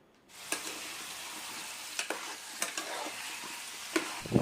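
Tomato pieces being stirred into a frying mixture for bottle gourd chutney: a continuous soft sizzle broken by several sharp scrapes and knocks of a spoon against the pan, close by, with no voices.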